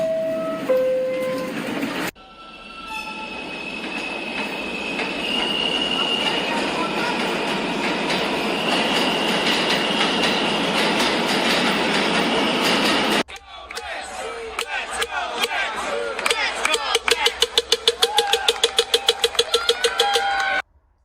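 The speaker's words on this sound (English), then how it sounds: "The 7 train's right there." A New York subway 7 local train pulls out, starting with a brief chime, then a loud rising motor whine and rumble, and ending with rapid clattering of wheels over rail joints as it speeds away.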